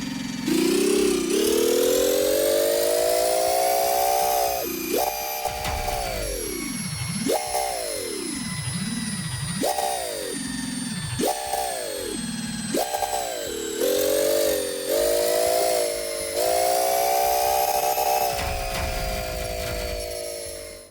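A homemade working transmission driven by an engine revs loudly and close, its whine rising and falling through repeated gear shifts with brief dips between them, a tonal buzzing drone that settles into a steady high hum near the end.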